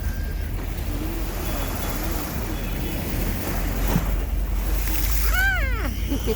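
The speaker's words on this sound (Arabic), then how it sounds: "يلا نسمع صوت البحر" Sea waves at a beach in Alexandria wash in steadily under strong wind buffeting the microphone, a continuous close roar, with a few faint high calls near the end.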